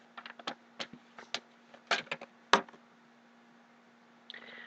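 Tarot cards being shuffled by hand, a series of short crisp riffling bursts at uneven intervals, close and fairly quiet, with a faint steady hum underneath.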